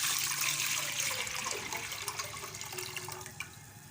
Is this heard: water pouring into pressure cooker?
yes